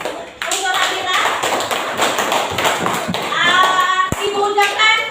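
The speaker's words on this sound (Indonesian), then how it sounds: "Kasih aplaus dulu yang untuk Nabila." Schoolchildren in a classroom clapping together in a burst of scattered, uneven applause, with a teacher's voice and children's chatter over the top and a sharp thump near the end.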